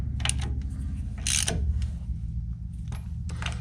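A hand ratchet clicks in short bursts while snugging the bolts on a 2009 Ford F350 hub during caliper and rotor replacement, with metallic creaks, gaps between strokes and a low background hum.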